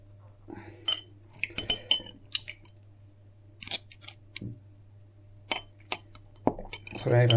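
A small metal spoon scoops cranberry sauce from a dish, scattered sharp clinks and scrapes in irregular bursts, close, with someone talking in between.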